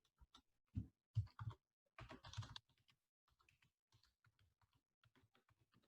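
Keys clack on a computer keyboard while feedback is typed, coming in short irregular bursts of taps with pauses between them, close and fairly quiet.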